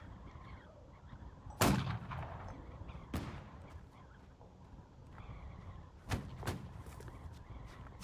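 Gunfire in a Roblox Men of War battle: several sharp, distinct shots ring out with pauses between them, one louder crack early on and a quick pair near the end, over quiet ambient background.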